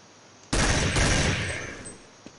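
Automatic gunfire in Counter-Strike 1.6: a sudden, loud burst of rapid shots that fades out over about a second and a half, followed by a faint click.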